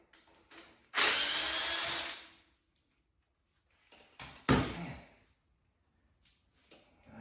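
Power drill working on the brake backing plate of an early Ford Bronco during a frame build: a loud burst of whirring lasting about a second, then a quieter pause and a second shorter whir with clanks, all close by.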